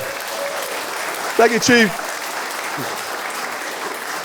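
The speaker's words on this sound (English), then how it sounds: "big round of applause for our chief" An audience at the 2025 State of the County address gives a steady round of applause for police chief Kazuo Todd. A voice briefly speaks over the clapping.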